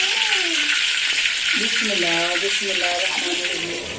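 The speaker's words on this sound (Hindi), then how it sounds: "तो मछली को ऑयल में पकने के लिए छोड़ दिया गया है।" Fish frying in hot oil in a village kitchen: a steady bright sizzle with crackling spatter throughout, while a voice, sung or spoken, runs over it in the middle.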